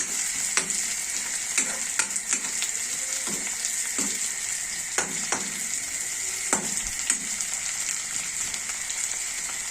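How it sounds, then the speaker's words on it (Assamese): Onion frying in a hot pan, a steady bright sizzle broken by repeated scraping and knocking strokes as it is stirred, close and continuous with no talking. "পিঁয়াজটো দি অলপ বস্তুটো লৰাই দিব লাগিব এনেদৰে লৰাই দিব লাগিব বস্তুটো"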